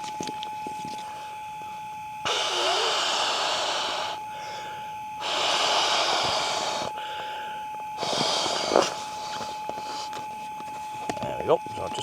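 A person blows long breaths into an inflatable camping pillow for a winter quilt wild-camping setup, three loud, close, sustained airy blows separated by brief pauses, with a faint steady tone underneath.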